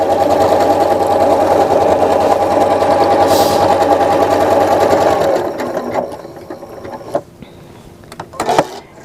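A sewing machine stitching a decorative stitch pattern runs loud and close with a fast, steady whir for about five seconds, then stops, followed by faint handling clicks and rustles.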